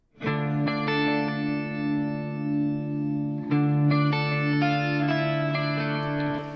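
Clean electric guitar chords ring out in sustained layers with a shimmering, wavering modulation, steady and fairly loud with no voices.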